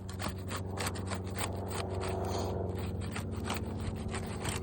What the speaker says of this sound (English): Mastic seal strips breaking free relatively easily.